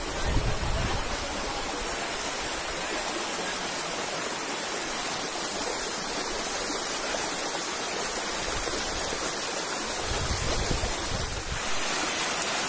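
A small waterfall at Ghatsila pours over smooth rocks. Close and loud, its rushing water makes an unbroken hiss that stays steady throughout, with no voices.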